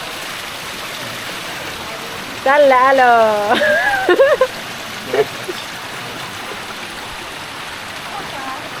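Water gushes steadily from many spouts and waterfalls at a bathing spot in Ubud, Bali, a constant close rushing wash throughout, with a voice speaking briefly over it.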